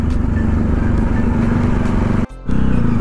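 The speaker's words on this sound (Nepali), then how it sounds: "बाइक पार्क गरिदिउँ टक्क लाएर।" A KTM motorcycle's engine idles loudly at close range as the bike is parked, a steady low throbbing rumble that dips briefly near the end before resuming.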